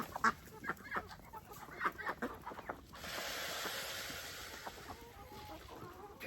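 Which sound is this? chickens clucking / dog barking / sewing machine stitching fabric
chickens clucking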